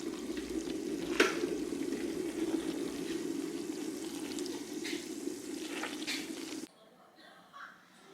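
Homemade makgeolli on its second day of fermentation fizzes and crackles steadily, a close, sizzling hiss of bubbles with a few sharper pops, before it cuts to near quiet at the end.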